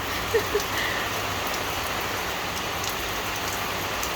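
Rain falls steadily outdoors while straw mushrooms are grilled, a continuous even hiss of drops on surfaces with a couple of faint pops early on and no talking.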